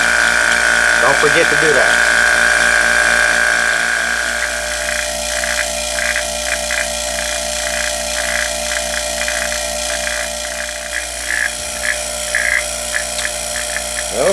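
A vacuum pump runs steadily while Skittles candy is puffed under vacuum, its even motor hum and drone continuing beneath a person talking throughout.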